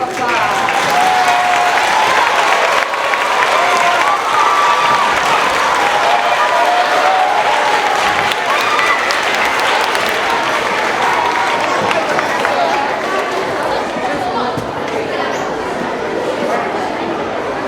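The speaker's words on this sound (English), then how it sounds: "let's give them all a round of applause" Sustained audience applause for standing Service Club members at a middle school year-end awards ceremony, a loud, continuous wash of clapping lasting well over fifteen seconds, with faint crowd murmur and a gradual easing toward the end.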